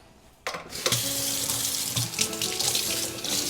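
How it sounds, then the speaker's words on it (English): Tap water runs steadily into a sink, splashing as a can opener is rinsed under the stream, with a few clinks against metal. "anytime I use a can opener, I always like to rinse this off"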